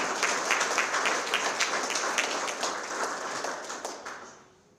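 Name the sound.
applause for partners at ceremony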